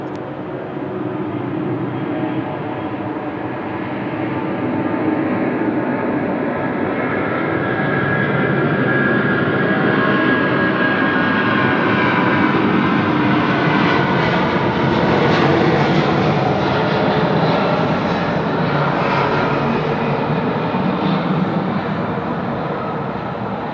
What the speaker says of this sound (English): The Hawaiian Airlines A330 off to Honolulu.